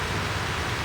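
Steady, heavy rain falls outdoors as a dense, continuous hiss that fills the whole moment, loud and even, with no voices over it.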